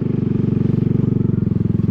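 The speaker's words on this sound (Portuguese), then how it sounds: "vou grudar o acelerador" A 1970 Honda SS 50cc (49cc) motorcycle held at full throttle on a long road trip, its small engine buzzing in a fast, even pulsing drone close up and loud throughout.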